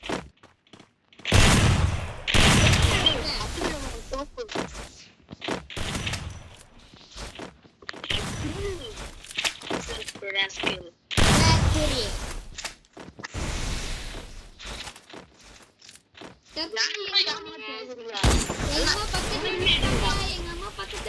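Video game gunfire comes in several loud, sharp bursts of shots, spaced apart between stretches of people talking in a voice chat.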